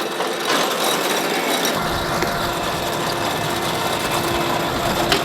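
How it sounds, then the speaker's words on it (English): Hay bale accumulator on a baler, its arm pushing two bales at a time onto a lifting table beside a knotter mechanism, giving steady loud mechanical clatter and ratcheting with a low engine hum underneath. "That arm kicks 2 bales in at a time, and then that table lifts up."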